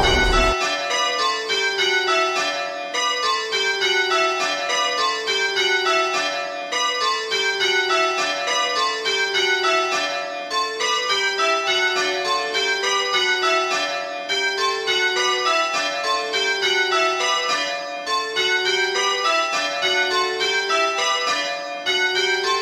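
Church bells of St Mary's, Eversley ring out in a steady, repeating cascade of overlapping tones that continues loudly and evenly throughout, with no voices.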